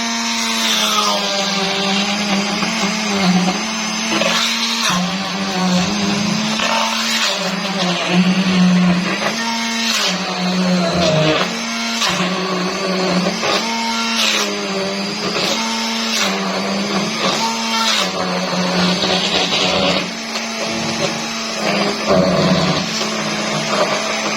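An electric hand mixer whips cream, droning continuously and loudly, its pitch wavering slightly as it churns, with no talking over it.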